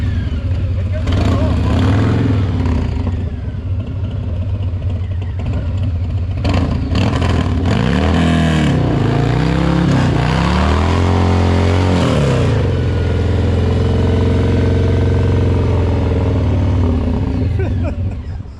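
A 2020 Harley-Davidson Low Rider S with a Milwaukee-Eight engine and chain conversion revs loudly, then sweeps up and down in pitch through two surging launches. The engine roars near and steady throughout, with people talking over it.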